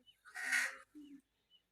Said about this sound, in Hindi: ये जो कौवा है ना इसको तकरीबन आज 5-6 दिन हो गए लगातार ऐसे ही बोल रहा है